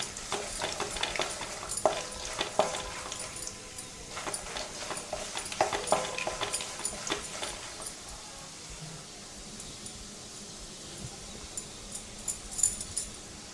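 Roasted chana dal fries and rattles in a pan under close, intermittent stirring and scraping, busier at first and then settling into a quieter sizzle with occasional light clicks.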